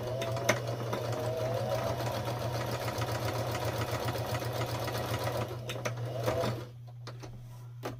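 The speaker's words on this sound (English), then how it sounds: "I just did a zigzag stitch, and I like to do 2 of them." A sewing machine runs a zigzag stitch in one continuous rapid mechanical chatter for about six seconds over a steady low motor hum, then stops with a few clicks, close and clear, with no voices.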